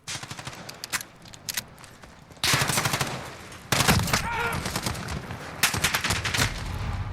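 Remington TAC-14 DM shotgun firing in Call of Duty Modern Warfare, with incendiary rounds loaded: a few sharp single blasts early, then heavy, loud, sustained booming shots with dense echoing reports.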